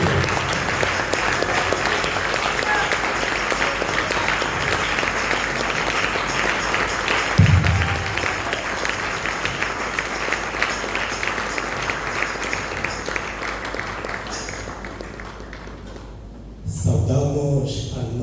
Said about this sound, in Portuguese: uma salva de palmas, uma força de palmas